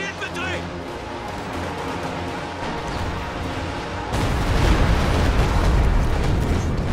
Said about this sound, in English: Another very good Stuka barrage defroos and half destroys an AT gun over here on the left side